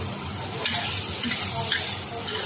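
Food stir-fried in a wok gives a steady, loud sizzle, with scraping stirs of the spatula rising briefly above the continuous frying hiss.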